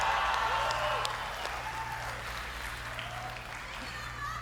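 Audience applause fills a Square Enix presentation hall at E3 2019, a steady wash of clapping that starts loud and eases slightly, with a low hum underneath and no talk.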